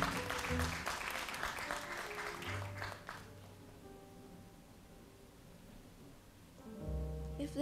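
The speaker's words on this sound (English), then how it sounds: "a round of applause for Rhia Yao" Audience applause at a voice recital, a dense crowd clapping for about three seconds before fading into a quieter stretch with sustained low tones, then swelling back near the end.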